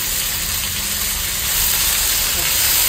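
Ginger paste hits hot oil with frying spices and bay leaf, giving a loud, steady, close sizzling hiss that holds unbroken throughout.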